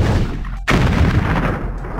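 Tank cannon in a children's puppy rescue cartoon video game fires once, a sharp blast after a brief gap of silence, followed by a loud rumbling boom and dense low roar that sustains to the end.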